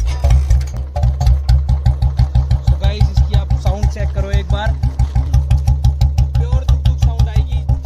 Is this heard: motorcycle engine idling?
yes